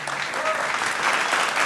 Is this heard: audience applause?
yes